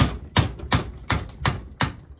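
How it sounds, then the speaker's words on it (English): Several sharp metallic knocks from a screwdriver tapping loose the lower case of a Briggs engine, five evenly spaced raps, close and fairly loud with no talk. "get a screwdriver and give her a couple little knocks"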